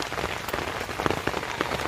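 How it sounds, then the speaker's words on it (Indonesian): Light drizzle patters steadily on a mountain trail on Gunung Salak, with soft scattered drops tapping close by and no voices. "diguyur hujan rintik-rintik."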